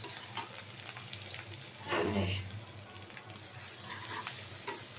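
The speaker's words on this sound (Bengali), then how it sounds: "কড়াইটা অনেক গরম মাছ ভাজছি তো অনেক গরম" Katla fish frying in a very hot wok, a continuous crackling sizzle with stirring noises and a louder hissing surge partway through.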